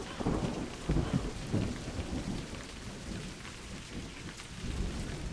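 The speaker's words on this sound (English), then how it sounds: "Maybe it's scripted that it has to rain" Rain and rolling thunder in the video game A Highland Song, a steady downpour hiss with low thunder rumbles near the start, heard alone.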